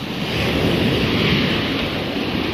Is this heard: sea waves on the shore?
yes